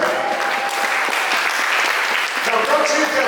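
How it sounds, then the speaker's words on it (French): A church congregation at a Sunday service claps together, a steady, full round of applause that fills the room for a few seconds without pause. "On peut s'applaudir"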